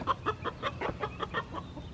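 Chickens cluck in a quick, steady series of short calls, fairly faint, over a low background hum.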